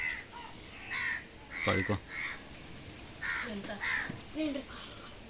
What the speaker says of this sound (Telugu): కాకులు ఉన్నాయి చెట్టు మీద కాకులు ఉన్నాయి చూడు